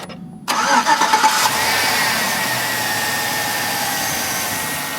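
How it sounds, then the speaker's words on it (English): A 2005 Chevy Tahoe 4x4 Z71 V8 cranks briefly and catches, then settles into a smooth, steady idle heard close from the front of the truck. "can you start the engine up?"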